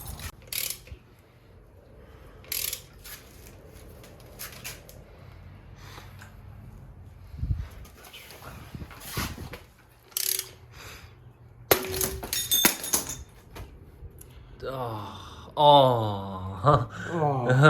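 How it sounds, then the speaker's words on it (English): A steel puller is worked onto the harmonic balancer of an RB25DET engine, giving scattered metallic clinks, taps and clattering knocks with quiet gaps between them, then a busier burst of rattling tool noise at the end. "we just have to pull off the harmonic balancer to get behind this cover and reveal the tensioners and pulleys"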